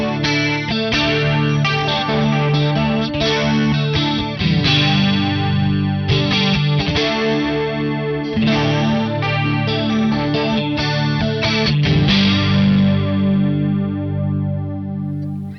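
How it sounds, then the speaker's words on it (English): Krozz Devices Airborn analog flanger set to fast, low-feedback chorus settings on an electric guitar, a warm, shimmering swirl over sustained chords and picked notes, loud and continuous throughout. "So for these settings, I'll be using a lot less feedback to get into that chorus zone."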